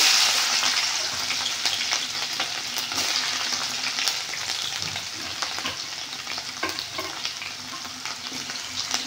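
Garlic fries in oil in a pan while puliyogare is being made, giving a steady hiss and crackle with scraping stirs throughout.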